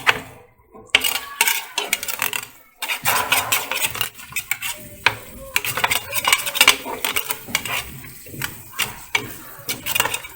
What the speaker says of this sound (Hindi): अब इसको अच्छे से मिक्स कर लेंगे।